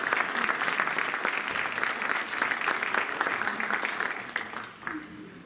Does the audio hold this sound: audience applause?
yes